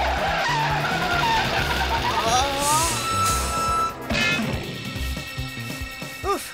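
A cartoon car brakes hard with a loud, drawn-out tire skid and screech over busy music and sound effects, with a voice talking around it, ending in short squealing chirps.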